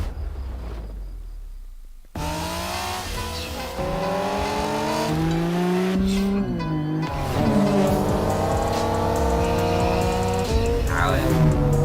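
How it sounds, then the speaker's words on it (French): A Toyota Supra is driven in a racing video game, its engine revving and shifting with rising, falling pitch and tire noise, loud and continuous after a brief quiet start. "Roule en Supra Coco."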